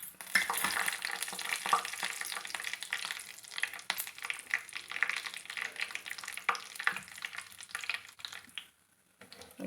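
Cumin seeds and dried red chillies frying in hot oil for amla pickle, a close, bright crackling sizzle with stirring scrapes that thins out and drops away just before the end.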